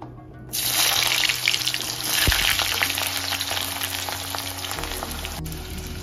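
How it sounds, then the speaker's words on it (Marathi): Onion frying in a pan for a chicken and mutton masala, a steady broadband sizzle that starts abruptly and holds loud and close throughout, with faint clinks and a low hum beneath, no talking. "तर आपण आता कांदा हे तळून घेऊया"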